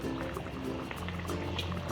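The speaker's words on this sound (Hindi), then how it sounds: "कैसे इस पर बॉयल आ रहा है।" A Chinese-style karahi cooks in tomato paste without added water, giving a continuous close liquid bubbling and gurgling under a faint low hum for about two seconds.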